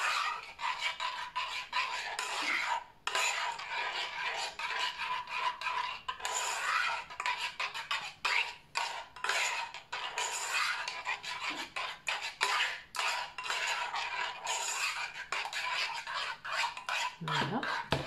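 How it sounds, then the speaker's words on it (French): Flour-thickened homemade toilet-cleaning gel being stirred, giving a steady, continuous scraping and rubbing close by with a few brief pauses, no talking. "Donc, je remue pour que..."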